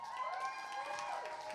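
Crowd cheering and applause at a live children's music show, a steady wash of clapping and shouts with a ringing tonal sound running through it.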